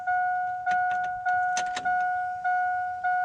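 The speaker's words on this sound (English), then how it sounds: "Oh, I can hear the fuel pump priming." An electric fuel pump primes in a neglected parts truck, giving a steady whine that repeats in several even pulses, with a few faint clicks and rattles mixed in.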